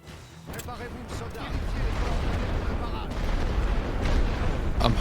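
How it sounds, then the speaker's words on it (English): A suppressing artillery barrage in the WWI strategy game The Great War: Western Front, heard as a continuous rumble of overlapping booms and blasts that swells steadily louder and stays dense throughout. "I'm hoping this suppressing barrage is going to last long enough"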